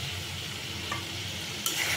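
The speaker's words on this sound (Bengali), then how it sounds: "ভালোভাবে নাড়তে হবে, অনবরত মাছগুলো কষাতে হবে।" Horn fish cooking with potato and ridge gourd in a spiced curry base is stirred in a pan, a steady close sizzle with scraping strokes and a brief clatter near the end.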